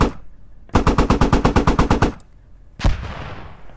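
A long rapid burst of about fifteen evenly spaced machine gun shots fired from a HMMWV-mounted gun in the military shooter game Squad, loud and close, followed after a pause by one more heavy blast with a trailing echo.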